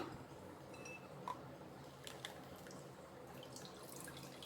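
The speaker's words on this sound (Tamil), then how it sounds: "அரைச்ச ஜூஸை ஃபில்ட்ரு பண்ணிடலாம்" Freshly blended carrot juice is strained through a large sieve, giving faint scattered drips and a few light clinks of utensils in a quiet kitchen.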